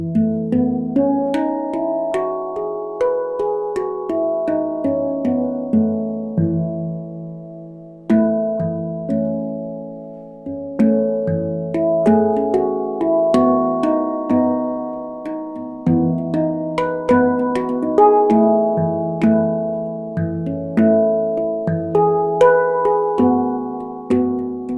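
Handpan played up and down a major scale, clear ringing metallic notes struck one after another in a steady melodic run, each tone sustaining and overlapping, close and alone with no voices.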